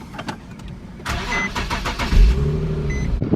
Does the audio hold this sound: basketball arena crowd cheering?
no